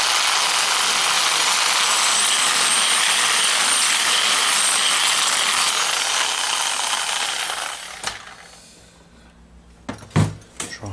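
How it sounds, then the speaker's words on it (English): A drill boring out a hole in a piece of medieval armour plate, a loud steady grinding whir that runs for about eight seconds, then stops, followed by a few sharp metallic knocks and clanks. "So we're going to bore it out of it."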